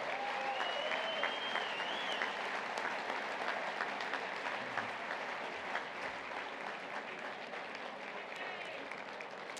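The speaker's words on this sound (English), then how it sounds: "One last round of applause for these magnificent honorees tonight" Applause for honorees at the Ivy Football Association dinner, a fairly soft, even patter of many hands clapping in a banquet room, sustained for the whole stretch with a few sharper claps standing out.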